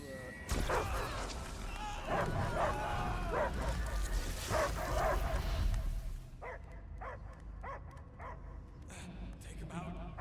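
A dog barks and yips in the Guardians of the Galaxy video game, first under loud game dialogue and effects, then as a run of short repeated barks standing alone near the end.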